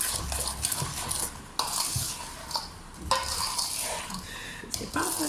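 Food is stirred in a pan with a utensil, giving clinks and scrapes against the metal over a faint sizzle, in short, uneven strokes, fairly close by.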